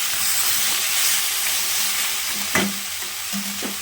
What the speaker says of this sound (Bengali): এবার ভেজে রাখা করলা আর বড়ি এর মধ্যে দিয়ে দেব। এবার একসঙ্গে সব ভালো করে আবার একটু নাড়ন করে নেব।